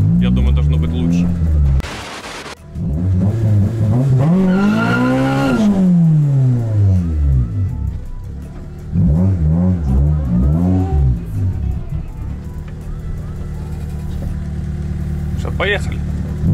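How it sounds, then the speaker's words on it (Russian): A Honda Civic race car engine revs hard while warming up its tires, rising and falling in long sweeping pulls, dropping briefly to idle between runs, with someone talking over parts of it. "Ну, сейчас попробуем прогреть резину."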